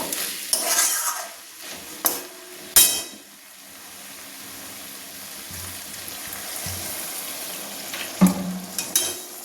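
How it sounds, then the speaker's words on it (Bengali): Fig (dumur) curry simmering in a pan after a little gravy is added, with a few sharp spoon-against-pan clanks breaking up a soft, low bubbling. "একটু ঝোল দিয়ে এবার ফুটিয়ে নেব।"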